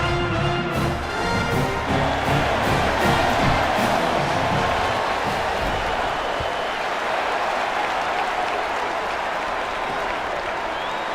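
A stadium crowd cheers and applauds in College Football 27, a loud, steady roar of many voices and clapping that stays full throughout.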